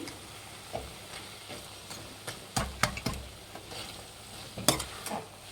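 A spoon stirring jaggery into vangi bath in a pan, scattered scraping knocks and taps over a soft sizzle, a few sharper clustered strokes midway, no talk.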